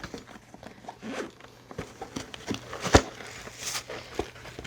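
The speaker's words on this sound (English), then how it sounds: "Carrying case has an awesome zippered enclosure." A zipper is drawn open around a drone carrying case, with faint, close, ragged scratchy pulls and light handling rustles.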